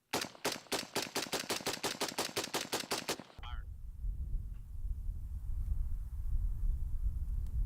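A suppressed 5.56 rifle fires a rapid, evenly spaced burst of about fourteen sharp, muffled shots lasting roughly three seconds, followed by a low, noisy rumble.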